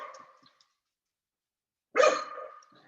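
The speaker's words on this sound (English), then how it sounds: "Oops, sorry about that barking." Two dog barks about two seconds apart, the second louder and closer, with silence between.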